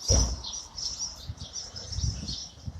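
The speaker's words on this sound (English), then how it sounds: "If you listen, you can hear the birds" Birds chirp high and repeatedly in the distance over a low background rumble of New York City ambience.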